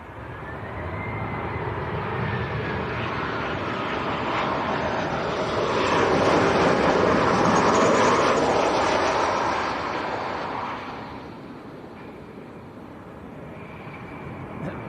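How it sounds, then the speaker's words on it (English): A Jet2 Boeing 737-800 on final approach to Leeds Bradford Airport passes overhead with a broad engine roar that swells to a peak midway and then recedes, steady and fairly distant. "Sounds like there's another plane on finals. It is indeed a Jet 2 737 800 from Heraclian, half a mile out."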